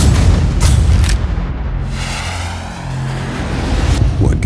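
Heavy booms and rumbling blasts of mortar fire in the war video game Sniper: Ghost Warrior 2, set in urban combat in Sarajevo, loud and continuous with deep low-end rumble and a brief lull midway.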